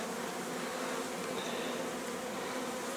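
Honey bees hum steadily around an open beehive in a honey-producing apiary, a dense, close, unbroken buzz of many insects holding an even level throughout.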